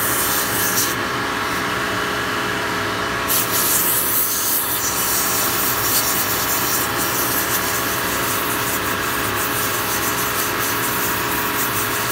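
Steady friction of sandpaper against a spinning black walnut and oak turning on a woodworking lathe, a loud continuous rubbing hiss over the motor's constant hum, with a brief brighter scraping burst early on.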